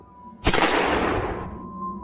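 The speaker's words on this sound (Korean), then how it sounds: "어디선가 총성이 울려 퍼졌다." A single sharp gunshot cracks out loud and close inside a horror audio drama, its blast trailing into a long fading reverberant tail with no voices over it.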